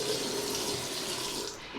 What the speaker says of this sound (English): I fill the sink with warm water